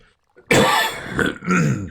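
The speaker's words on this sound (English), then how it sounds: "Sorry about the coughing." A harsh, raspy cough erupts close to the microphone, followed by a couple more throaty coughs in quick succession.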